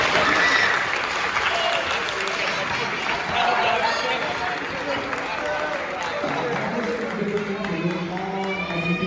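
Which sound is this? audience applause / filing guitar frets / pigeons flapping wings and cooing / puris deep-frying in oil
audience applause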